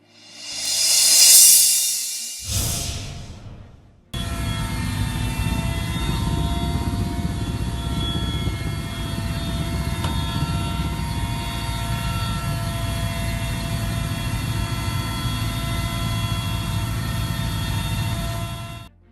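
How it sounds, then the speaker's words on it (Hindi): A helicopter drops water on a forest fire in the Sariska forest of Alwar district, Rajasthan, its rotor and engine droning steadily and loudly, preceded by a brief rushing burst. "वीडियो में हेलीकॉप्टर के जरिए पानी गिराकर जंगल की आग बुझाने की कोशिश हो रही है।"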